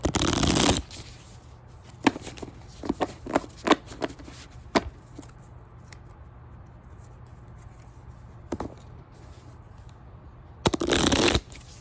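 A deck of cards being handled and shuffled: a riffle burst opens and closes the sequence, with scattered light snaps and taps of cards in between, close and clear in a quiet room.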